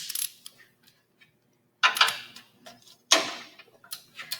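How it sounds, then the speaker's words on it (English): A torque wrench on brake caliper bolts during a disc brake service gives sharp, separate clicks in a few bursts. They are close, crisp and heard alone with no talk. "Torque those until it goes click."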